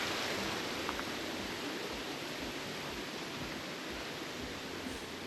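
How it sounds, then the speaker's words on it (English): A stream runs beside a lake trail at Stone Mountain, Georgia, a steady soft rush of water that stays even and unbroken, faint and continuous with no voices. "there is a perfect resting spot to sit and enjoy the view while listening to the running water right"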